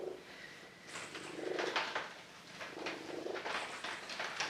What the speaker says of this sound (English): I don't know if the camera will get this purring.